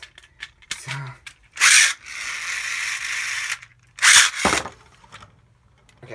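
A Beyblade launcher rips the Tyros spinning top loose with a loud ratcheting burst, followed by a sustained whirring spin and a second sharp ratchet pull, close up and mostly alone.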